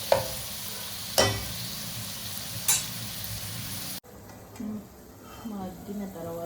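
Curry simmering on low heat in a pan gives a steady sizzling hiss with a few sharp stirring clicks. It then drops to a quieter bubbling as a voice talks over it.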